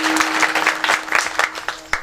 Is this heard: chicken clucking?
no